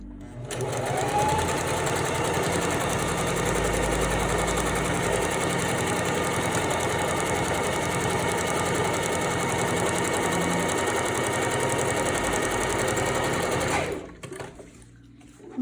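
Sewing machine running a steady reverse stitch on swim elastic, a continuous close mechanical hum and rapid needle chatter for about fourteen seconds before stopping abruptly.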